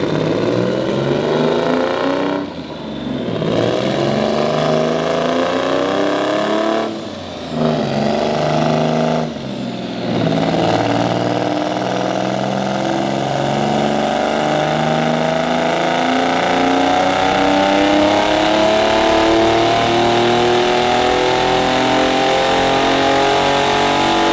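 A turbocharged EG33 engine in a Subaru WRX STI is revved hard on a dyno, loud and close. The pitch climbs steadily, breaks off briefly at a few gear changes, then rises again through one long, sustained pull.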